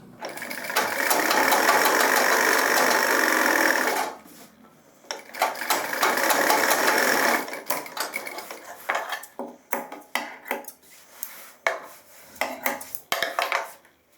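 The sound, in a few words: sewing machine stitching trouser seam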